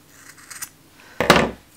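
Scissors cutting yarn for latch hook rug fringe, with a couple of faint snips followed by one louder, close crisp cut.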